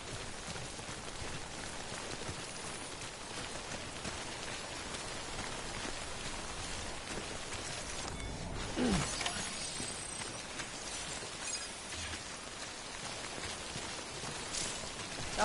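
Steady rain falls in the video game Death Stranding, a dense continuous hiss of drops on surfaces that holds level throughout, with a brief louder swell near the middle and no talking.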